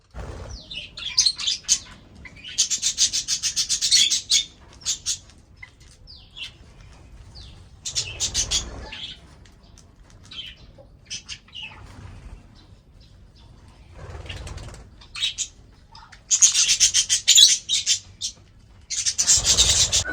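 Pigeons and desi poultry in a small rooftop coop gathering to feed, with bursts of wing flapping and rustling, scattered chirps and pecking, loud and close, alternating with quieter gaps.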